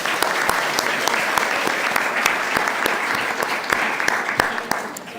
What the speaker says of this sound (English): And a round of applause also to our 6 panelists